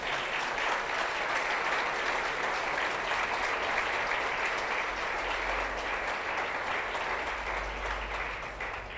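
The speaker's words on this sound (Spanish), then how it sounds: "Dale un aplauso al Señor por eso." Sustained applause from a church congregation during a sermon, steady dense clapping that fills the room for the whole stretch, with faint voices barely audible underneath.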